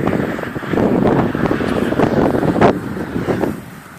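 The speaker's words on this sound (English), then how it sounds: "It's windy." Wind buffets an outdoor microphone, a loud continuous roaring rumble with gusty surges that rise and fall across the few seconds.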